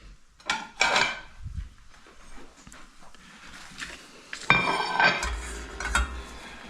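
Kitchen clatter of a plate being grabbed and scrambled eggs scraped onto it: scattered clinks of ceramic and utensil, soft scraping, and a louder burst of clattering near the end, fairly close and moderately quiet.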